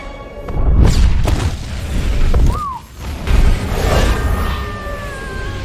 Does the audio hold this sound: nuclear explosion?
yes